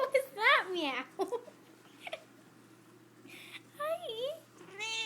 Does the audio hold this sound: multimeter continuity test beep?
no